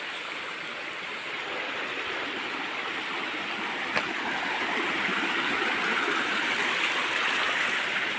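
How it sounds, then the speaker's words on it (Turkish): A natural spring flows out of a mountainside in a steady, close, continuous rush of water with no pauses, with one faint tap partway through. "Buradan çıkan su kaynağı da bu kadar."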